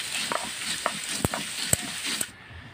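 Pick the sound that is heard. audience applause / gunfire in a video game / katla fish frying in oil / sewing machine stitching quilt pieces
katla fish frying in oil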